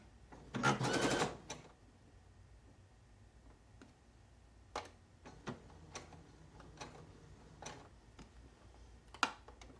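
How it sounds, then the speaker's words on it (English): A home sewing machine runs a short burst of stitches and back stitches on fabric for a tarot bag, a brief loud whirring chatter near the start followed by scattered soft clicks and taps of handling. "We're going to sew a couple stitches and then back stitch."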